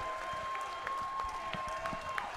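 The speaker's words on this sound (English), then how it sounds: "a round of applause for a hard-fought main event here at Pinnacle Fighting Championships" A crowd at a Pinnacle Fighting Championships main event claps after the fight, a faint, scattered patter of applause from a distance over a steady background tone.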